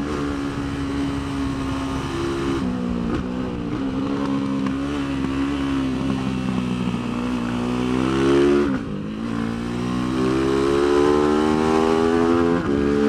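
A TIANDA TDR300 racing motorcycle on a racetrack roars loud and close, its engine pitch climbing hard, dropping briefly at a shift and climbing again to a high wail as it winds out through the gears.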